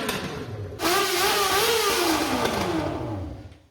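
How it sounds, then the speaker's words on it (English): Engine exhaust note through short header runners: a loud, sustained engine note cuts in suddenly, its pitch wavering up and down before sliding lower and fading out at the end. "we can also achieve that higher pitched sound with a significantly shorter length runner"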